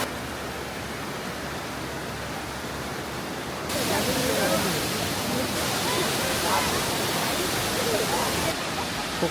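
Pearl Shoal waterfall in Jiuzhaigou, water tumbling over rocks into white foam, roars as a steady broadband rush that swells louder partway through and stays constant to the end.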